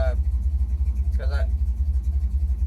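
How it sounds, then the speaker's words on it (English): A truck engine fitted with a new Quadrajet carburetor idles low in gear, a loud pulsing rumble throughout, while someone speaks over it. "I can idle this thing lower and not have it die while it's in gear"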